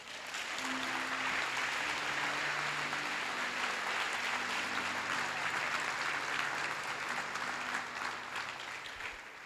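A church congregation applauds together, a dense, sustained wall of clapping that holds steady for several seconds before easing slightly at the end.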